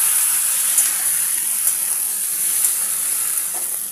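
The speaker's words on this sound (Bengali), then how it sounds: "এবার টমেটোগুলো দিয়ে দিই। টমেটো, কুল সব কিছুই একসাথেই দিয়ে দেবো" Tomatoes and jujube berries frying in hot mustard oil for a chutney, giving a steady, close hiss with faint crackles and soft pops throughout and no voices.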